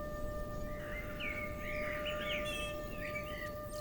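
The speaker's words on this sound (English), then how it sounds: "The sparrows sound different to the starlings and the blackbirds." Sparrows chirp in a busy, overlapping chatter of short tweets, steady over a constant hum and faint background noise.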